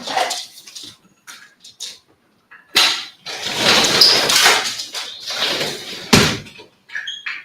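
A house door is opened to let a pet dog outside, with a couple of sharp door bangs or slides among shuffling and dog whimpers, loud and close, separated by quiet gaps.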